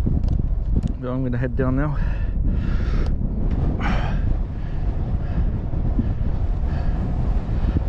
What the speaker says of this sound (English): the wind is starting to get up